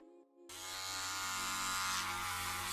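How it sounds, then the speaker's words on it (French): Electric razor shaving the head before fitting a removable hair prosthesis: a faint click, then a steady close buzzing motor that holds on continuously without speech. "vous rasez un tout petit peu plus loin que votre calvitie pour avoir quelque chose de bien net"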